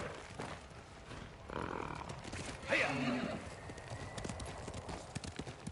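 A horse in the video game Ghost of Tsushima gives a clear neigh midway, set over steady hoof clip-clops and low ambient rumble, all moderately quiet.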